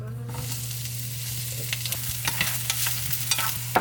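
Egg fried rice is stir-fried in a pan, a constant sizzle broken by repeated scraping and tossing clicks that grow busier toward the end, over a low steady hum.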